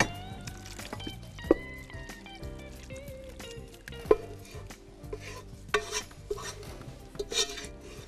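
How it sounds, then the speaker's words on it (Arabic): A minced meat and vegetable mixture is spooned into a serving dish in a home kitchen, with scattered clinks and scrapes of a spoon against the dish over a soft, steady background and no talking. "هناخد بقى الخلطة بتاعتنا دي بنحطها في الطبق"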